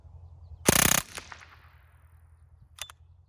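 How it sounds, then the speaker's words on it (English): A Ruger 10/22 converted to a machine gun fires a short, sharp full-auto burst from a 10-round magazine outdoors. The burst is loud and close and ends quickly, followed by a fading echo and one faint later click, with no voices. "a machine gun with a 10 rounder is not all that fun"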